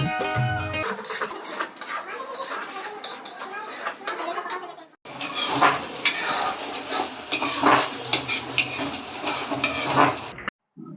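Metal pots and a kadai clatter and a spoon scrapes while paneer curry is tempered on a home stove, with sharp clinks and scraping in bursts, faint voices in the background, and a short pause midway.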